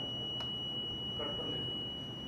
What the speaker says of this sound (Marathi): लॉन्ग बीप येत आहे, मशीन क्लिअर होत आहे.